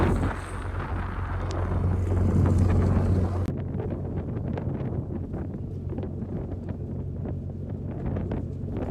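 Strong wind buffets the microphone in loud, steady gusts, with low rumbling roar throughout and no talking.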